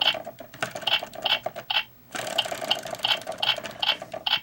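A DX Meteor Driver toy belt gives off rapid rhythmic clicking and whirring as its globe is turned, a close, light mechanical ratchet with a brief pause midway.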